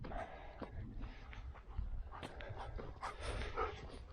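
A dog whimpers and pants softly in a quiet setting, giving faint, intermittent whines with some low rustling in the background.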